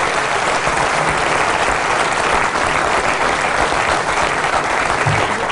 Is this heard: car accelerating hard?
no